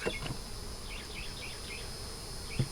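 Close, continuous buzzing of many bees, a dense droning hum with a few louder passes near the end.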